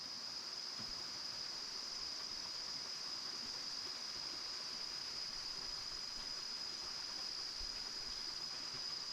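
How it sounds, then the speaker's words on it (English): A waterfall rushes in a forest valley at Magoebaskloof while cicadas drone in a steady high whine. Both sounds hold constant and fairly loud throughout, with no pauses. "I'll have to probably shout over the sound of the waterfall and the cicadas."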